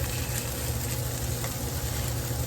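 Garlic sizzling steadily in a hot pan, a dense, even frying hiss that runs close and unbroken with no voices.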